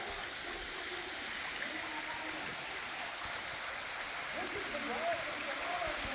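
Steady rushing of a flowing creek on the Ozark Highlands Trail fills the background, close and even, with faint voices talking quietly over it.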